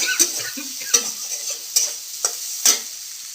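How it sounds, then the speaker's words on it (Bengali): Potatoes frying in a pan are stirred with a utensil, giving a steady close sizzle broken by five sharp scraping clinks at irregular intervals. "নাড়াচাড়া করে ফেললাম ভালোভাবে।"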